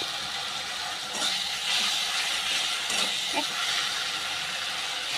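Ginger garlic paste fries in a pan, a steady broadband sizzling hiss lasting throughout, with faint clinks of utensils.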